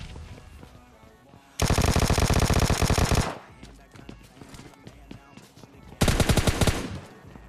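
Two long bursts of rapid automatic gunfire ring out loud and close in a shooter video game after a grenade is thrown, with quieter in-game clatter and footsteps between the volleys.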